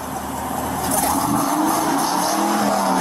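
A car engine revs up at a police traffic stop, a sustained rising roar that swells after the first second and holds loud and steady to the end.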